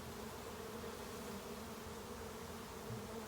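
Honeybees hum steadily at an inspected hive in May, a soft continuous drone of many insects held at an even level throughout.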